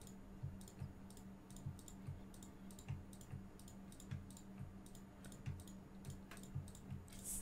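Rapid computer mouse clicking runs steadily and furiously in a quick repeating rhythm, with soft low thumps under each sharp click, close up and fairly quiet, with no voice.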